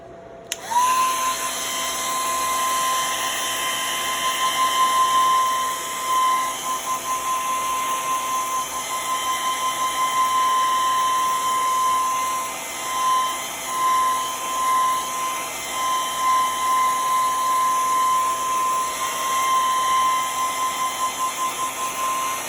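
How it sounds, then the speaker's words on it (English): A hair dryer blows with a steady high-pitched whine and rushing air, running continuously at close range with slight wavering in pitch. "I've got my blow dryer right over here."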